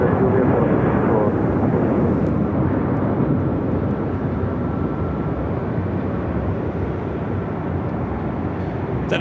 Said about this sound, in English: That American flight taken off is 737-800 heading to Las Vegas, flight 2002